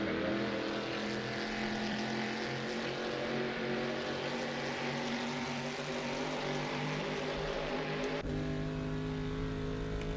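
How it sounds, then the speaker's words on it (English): A loud, continuous 1960s Shelby car engine drone in a racing video game, with steady harmonic tones, shifting pitch slightly as it revs, with no voices over it. "Hear that Shelby engine"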